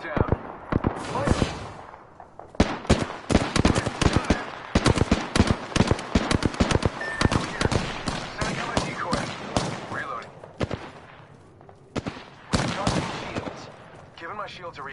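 Bursts of gunfire from an Apex Legends match, sharp sustained volleys of shots crackling in rapid runs with short pauses, loud and close, with occasional voices speaking between the bursts.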